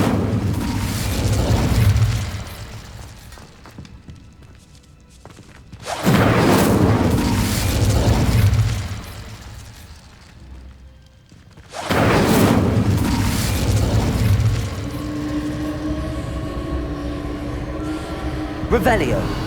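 Incendio fire spells blast in the Hogwarts Legacy video game as three loud, roaring bursts, each swelling and fading over a few seconds, with a continuous rumbling backdrop.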